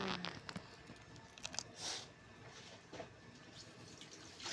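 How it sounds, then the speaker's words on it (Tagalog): Steady wash of falling water with intermittent splashes and patters, close by and fairly quiet, no voices. "Umuulan."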